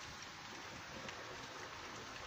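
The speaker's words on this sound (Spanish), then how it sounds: "Otra vez lloviendo en Jerez." Steady rain hiss in Jerez de la Frontera, Spain, fills the clip, a dense, even wash of falling water with no voices, constant and moderately close throughout.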